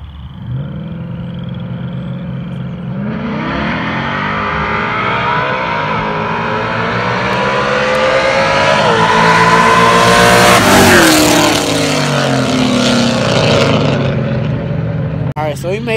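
Cars racing in downtown St. Louis during a street takeover: an engine revs loud and close, climbing in pitch through the gears and peaking sharply before it falls away, with crowd noise underneath.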